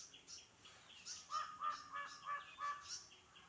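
Wild crow and a bird of prey in India calling in a short series of repeated, harsh, fairly close calls with steady rhythmic bursts, no voices.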